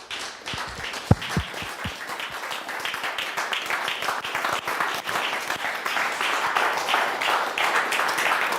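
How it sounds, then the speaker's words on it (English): Lecture-hall audience applauding for a pianist at a St Mary's Perivale talk, a steady dense clapping that builds slightly and continues throughout, with a few sharper individual claps near the start. "Let's have a round of applause for Peter Donohoe."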